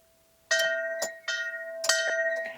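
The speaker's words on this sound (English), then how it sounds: "Shall we just toll the bell as we're here and say hello to San Pedro?" A bell at the Chapel of San Pedro, in the grounds of a Galician manor, rings in several close, loud strikes, each leaving a bright ringing tone that lingers and decays between hits.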